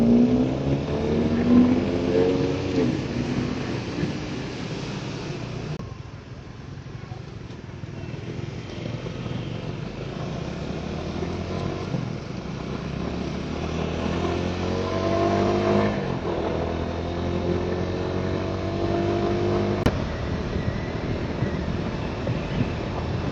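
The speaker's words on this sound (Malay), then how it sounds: "Alamak, lori sampah. Lori sampah. Lori sampah." A garbage truck rumbles past on a street, heard from a moving vehicle: a loud, steady low engine drone with wind buffeting the microphone, swelling and shifting over about twenty seconds.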